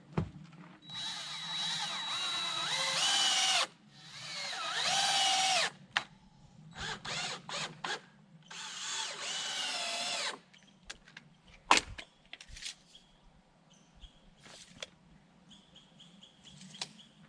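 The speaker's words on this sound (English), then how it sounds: "so I'll screw those down" A power drill drives screws into wooden roof framing in several long whirring bursts of a few seconds each, close and loud, followed by quieter clicks and knocks of handling.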